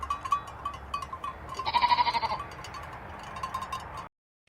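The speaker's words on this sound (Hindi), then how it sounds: "माधव हर सुबह अपनी भेड़ बकरियों को लेकर पहाड़ियों पर चला जाता" A flock of sheep and goats on a hillside bleats repeatedly, one loud close bleat standing out in the middle over a busy chorus of quieter calls, with no talking.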